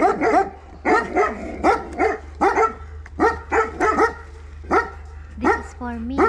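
A dog barks again and again in sharp, loud bursts at a quick uneven rhythm, close by, ending with a few higher yips.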